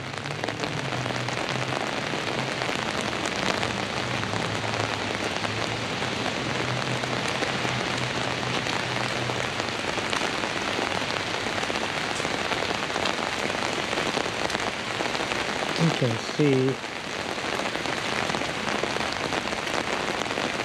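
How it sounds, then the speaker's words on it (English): Steady, dense rain pours continuously at the Palace of Fine Arts in San Francisco, a close hiss of drops on surfaces; a brief voice is heard near the start. "and hear the rain pretty good."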